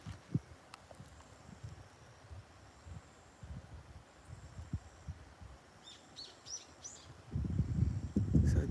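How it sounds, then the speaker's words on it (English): Birds singing in a quiet wooded mountain area in Japan, scattered distant chirps and calls over faint rustling and footsteps, with a louder rustle near the end. "I can hear the birds."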